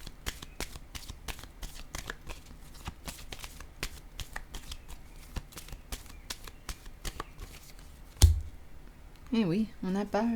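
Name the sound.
shuffling and drawing tarot cards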